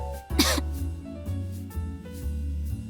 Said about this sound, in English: Sayo suddenly coughs.